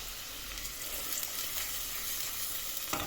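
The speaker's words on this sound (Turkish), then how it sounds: "ocağıma soğanımı, kıymamı koydum. Biraz da sıvı yağ koyacağım" Onion and minced meat fry in oil in a pan, giving a steady, close hiss and crackle of sizzling with no voices.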